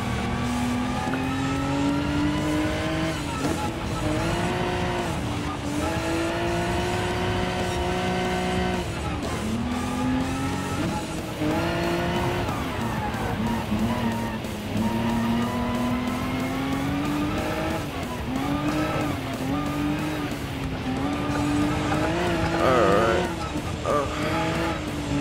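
A race car in a Gran Turismo Sport rally race roars loudly, revving and dropping through gear changes, with tire squeal over a constant engine whine.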